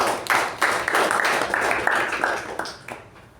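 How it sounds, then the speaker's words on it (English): A room full of Toastmasters meeting attendees applauds, a dense, steady patter of many hands clapping that holds for a few seconds and then tapers off, with no voices over it. "A round of applause to Toastmaster Jyothi."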